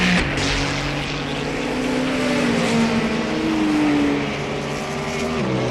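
GTP prototype race cars in a Le Mans racing game roar continuously, engine pitch climbing and sliding as cars close in and pass, loud and unbroken with no talking.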